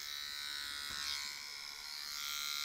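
An electric shaver runs steadily with a bright, rattly buzz, played back as a recording at a low level, continuous throughout with a slight swell midway and no speech.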